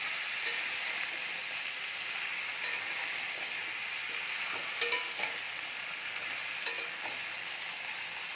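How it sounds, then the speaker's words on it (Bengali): Mixed vegetables with masoor dal and salt being stirred in a pan, giving a steady close sizzle with soft scraping stirs and a few sharper clinks of the spoon, no voices. "দিয়ে নাড়াচাড়া করে ঢাকা দিয়ে দেব"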